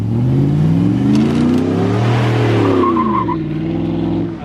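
A Ford Powerstroke diesel truck with bigger twin turbos roars loud and close as its tires spin in grass, the engine note rising and falling in long revving sweeps with a brief squeal near the end.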